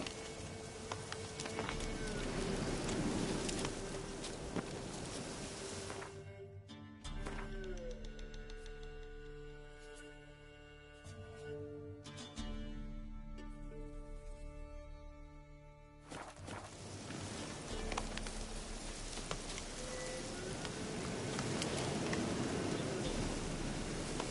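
Steady rain falls in The Witcher 3 as a dense, even hiss. It drops out in the middle while soft musical tones play, then returns at full strength.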